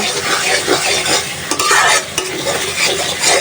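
Spice paste cooked down with tomato in a pan for a Bengali tengra fish curry, heard as steady close sizzling and frying with repeated spatula stirring scrapes throughout.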